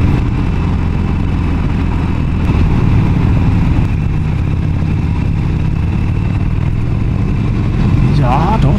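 A Harley-Davidson 1200 Sportster Custom motorcycle engine drones steadily at low pitch, its rumble easing slightly as if coming off the throttle, with a voice talking over it.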